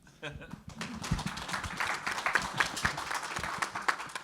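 Convention panel audience at Rebel Scum Con 2024 claps in scattered, uneven bursts, moderately near, mixed with talking and some light taps.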